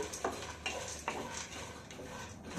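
Chopped almonds roasting on low heat in a pan while a spoon stirs them. Soft scraping and clinking strokes come at a slow, regular pace under a faint background hum.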